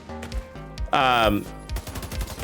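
Rifle gunfire in The Division 2 video game, such as an ACR-E or MK17, fires as rapid repeated shots in bursts, loud and close, with a brief louder blast in the middle and a voice talking underneath.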